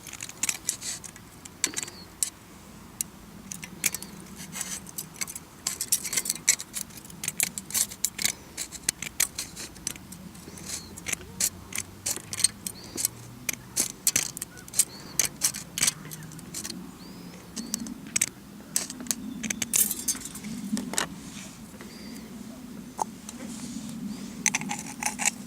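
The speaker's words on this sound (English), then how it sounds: "Hold the can like this and trim up to the marked line as accurately as possible." Scissors snip steadily around an aluminium drink can, trimming it for a homemade spirit stove. The crisp metallic clicks repeat closely and continuously over a faint low background hum.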